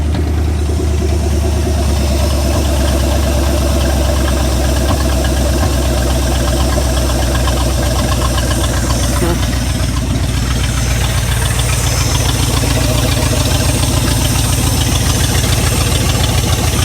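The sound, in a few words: Dodge Adventurer 4x4 engine idling after ten years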